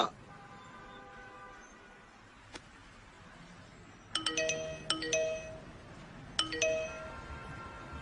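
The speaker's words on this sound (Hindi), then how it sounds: "चालू करते 3-3 मैसेज आ गए।" Several short electronic notification chimes from a mobile phone just switched on with a new SIM card, arriving as three quick bursts of bright tones after a single earlier ping, with no talking.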